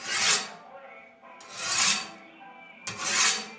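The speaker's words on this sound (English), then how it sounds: "get this great sharpening sound, really just scares the daylights out of people" A blade is sharpened with three slow, rasping strokes, each a loud scraping swell with quieter pauses between, close by in a haunted basement setting.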